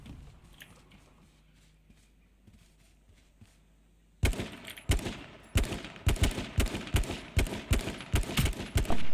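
Gunfire in the online survival game H1Z1 bursts in halfway through after a quieter stretch of faint clicks and ambience, becoming a rapid, loud, rhythmic string of shots.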